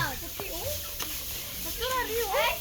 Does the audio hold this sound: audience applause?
no